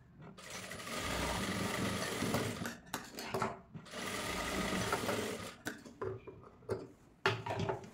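Sewing machine stitching a frilled cloth frock, running in loud, steady bursts of whirring that stop and restart several times with brief pauses between runs.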